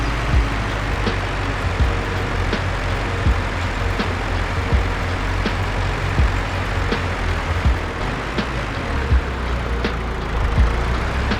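A tractor engine drones steadily while cultivating a field in a farming video game, a continuous loud low rumble with faint regular ticks throughout.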